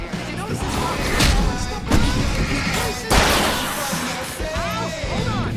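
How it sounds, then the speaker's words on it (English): Fireworks go off during a nighttime stage fight in the video game Alan Wake, a series of loud booming bursts a second or so apart with game voices and effects mixed in. "I can set off more of the fireworks from here and help you out!"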